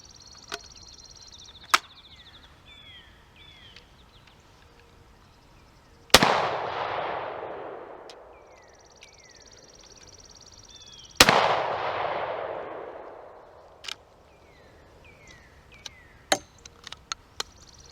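Two loud, sharp shotgun blasts firing 25 to 30 year old Winchester shells after soaking, each with a long decaying echo outdoors, separated by several seconds and followed by metallic action clicks.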